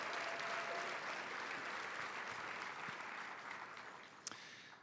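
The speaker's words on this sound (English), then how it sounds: "Another round of applause." A crowd at an education event applauds a high school quartet with continuous, dense clapping that holds steady and slowly eases off, ending with a sharp isolated knock.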